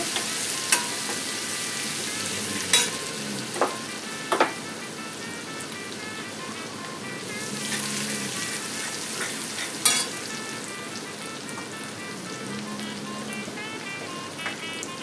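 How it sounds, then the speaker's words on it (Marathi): Finely chopped garlic sizzles in hot oil in a pan for a homemade crab curry, with a continuous bright frying hiss and scattered clicks and scrapes from a spoon stirring it. No one speaks. "आणि हा बारीक घेतलेली लसूण आहे तो घातला. लसूणला हलवून घेते."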